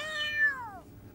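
A cat or kitten at an animal doctor's gives a single close, clear meow that slides downward in pitch and fades out, with no talking over it.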